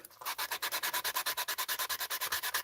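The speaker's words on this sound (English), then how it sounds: "See, when I go to my 36 grit, man, that glue comes right off, Pete." Coarse 36-grit sandpaper rubs glue off a scale-model Nissan Z body in quick, even back-and-forth strokes, about eight per second. The rasping is close, steady and rhythmic, with no voices over it.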